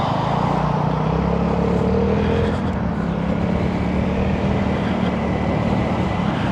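A 2025 Vespa GTV 310 scooter cruising on an interstate, with a steady, loud engine drone and heavy wind rush running continuously, no voices.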